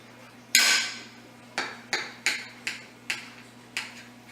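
A knife cuts through a pan-seared, oven-baked pork loin on a board, making a loud first chop followed by six or seven sharp, evenly spaced cuts close by. There is a steady low hum underneath and no talking.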